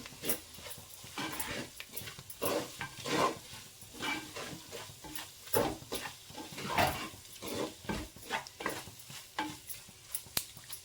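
Egg curry seasoned with garam masala and pepper being stirred in a pan, with a quiet ongoing sizzle and irregular scraping taps of the spoon against the pan.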